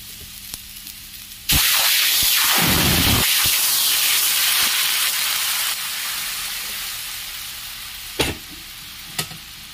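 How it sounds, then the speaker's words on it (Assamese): Hot water poured into a pan of fried spices and turmeric for a curry sets off a sudden loud hiss and bubbling sizzle that slowly settles. A few soft clinks come near the end, with no talking. "এতিয়া ইয়াতে মই গৰম পানী কৰি লৈছো ইয়াতে গৰম পানী ঢালি দিম"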